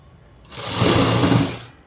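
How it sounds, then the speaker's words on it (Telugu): A sewing machine stitches dress fabric in one short, close burst of rapid whirring that rises, holds for about a second and fades, with no talking. "ఇలా కుట్టుకుంటూ పోవడమే ఎంత ఈజీగా తొందరగా అయిపోతుందో చూడండి"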